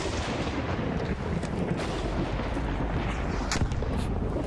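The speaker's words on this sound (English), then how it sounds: "Is he shooting at you? Yeah, he is." In the video game Arc Raiders, dense gunfire crackles in rapid bursts with booming low thuds, a busy, loud barrage running throughout.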